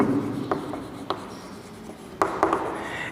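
Chalk or marker taps and scratches on a board during a maths lesson, a few short, sharp strokes spaced irregularly over a quiet room background.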